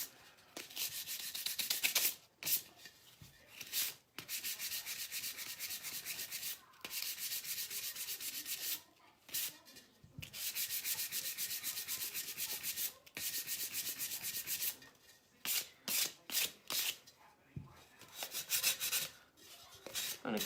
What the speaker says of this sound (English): I want this to be a little bit more distressed. So I'm just going to sand it a little bit more.